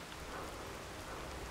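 Rain falls in Fallout 4, a brief, steady hiss of drops pattering on surfaces with a low rumble beneath, no voices.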